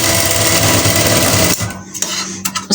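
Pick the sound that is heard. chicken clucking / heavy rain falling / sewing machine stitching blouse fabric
sewing machine stitching blouse fabric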